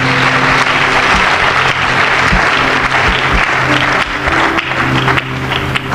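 A church congregation applauding in praise during a service, dense sustained clapping that fills the room loudly and evenly from start to finish.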